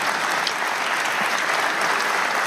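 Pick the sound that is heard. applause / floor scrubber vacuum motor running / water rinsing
applause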